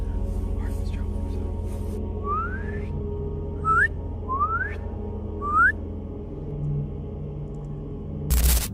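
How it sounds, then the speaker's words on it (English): Several rising whistles repeat at a slow, irregular pace over a low, steady rumble, sounding distant and faint, before a sudden loud burst at the end. "a distant whistle cutting through the night"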